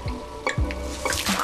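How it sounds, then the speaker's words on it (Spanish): Water drips from roof leaks during a storm in an animated Simpsons scene, several close, plinking drops in quick succession within a second and a half, over a faint background. "con una terrible tormenta que hace visible las goteras de Moe"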